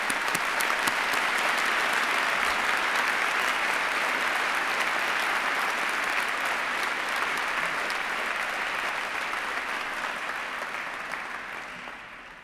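A large hall audience at a 2017 Imperial College postgraduate degree ceremony applauds the graduating class: dense, steady clapping that holds for about twelve seconds and thins slightly at the end, with no talking.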